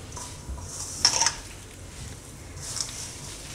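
A spoon stirs paneer and water chestnut flour together in a bowl, giving soft squishing and scraping with a brief clink of metal against the dish, close and quiet.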